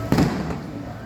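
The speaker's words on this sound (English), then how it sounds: "Here in Mexico, fireworks going off." Fireworks go off over the Malecon waterfront in Puerto Vallarta, Mexico at night, as a pirate ship passes by: one loud nearby burst followed by a second weaker pop and a lingering rumble.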